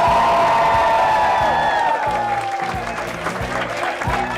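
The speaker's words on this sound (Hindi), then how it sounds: "तालियां।" A studio audience breaks into applause during a game show round, a brief burst of clapping and crowd noise running alongside a loud musical sting with falling tones.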